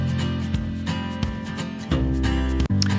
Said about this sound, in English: Below that is the instrumental version of that track.